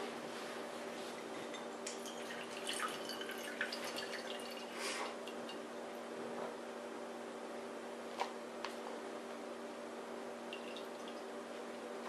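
Brine drips out of pressed, salted serrano chili peppers in a kitchen, faint sparse drips and small clicks over a steady low hum.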